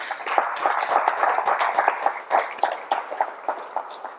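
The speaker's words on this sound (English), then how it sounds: "please give him a round of applause" A school community engagement audience at PS 197 gives a round of applause, a modest group of hands clapping in uneven, pulsing bursts at moderate volume.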